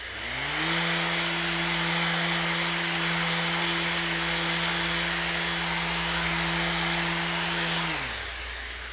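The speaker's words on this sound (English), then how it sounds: "let's do a little sanding on this one" A random orbit sander spins up, runs at a steady whining hum against wood for several seconds, then winds down at the end.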